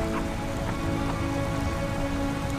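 Steady rain in the video game I Remember The Rain, a dense, even patter of drops that carries on without a break and stays fairly loud and close throughout.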